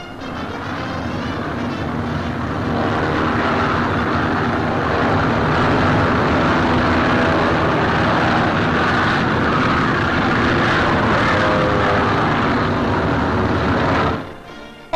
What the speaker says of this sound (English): As the transports take off, General Brereton wishes them Godspeed.